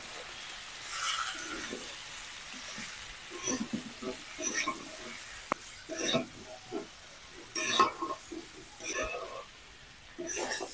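Yardlong beans and potatoes frying with turmeric and salt in a pan, soft sizzling and stirring scrapes under a woman's quiet speech.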